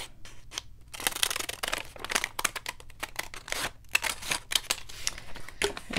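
Scissors cut across the top of a stamped paper bag, giving a close, crisp series of snips and papery crunches in irregular bursts, with short pauses between them.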